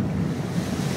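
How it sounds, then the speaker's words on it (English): Ocean swell washing into rocky tide pools, a close, steady roar of surging water mixed with wind rumble on the microphone, loud and continuous for a brief moment. "when the next swell comes in, watch out."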